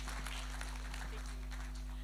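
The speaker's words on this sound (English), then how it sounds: "Let's give another round of applause to Councillor." Steady, faint applause from an audience at a Fiji Day celebration in Brisbane, clapping for Councillor John Raven, set against a low electrical hum.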